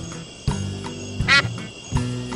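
A duck in the Monkey Island video game quacks in short, nasal bursts, several spaced calls up close among sharp game sound effects, with no talking.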